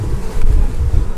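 Honeybees at an open beehive make a steady low buzzing hum that stays constant and close, with a wind-like rumble underneath throughout.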